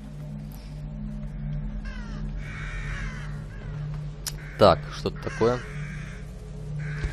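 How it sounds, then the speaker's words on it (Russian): Crows caw in a strange forest in the horror video game The Evil Within, with several harsh, loud calls in quick bursts over a low droning ambience while someone talks. "Вороны."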